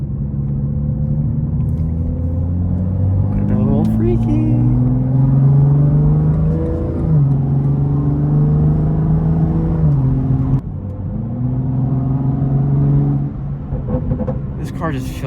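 Tuned BMW 435i with an xHP Stage 3 transmission tune accelerating hard, its engine note climbing steadily, then dropping sharply at two quick gear shifts before rising again, a loud close-up rumble heard from inside the car.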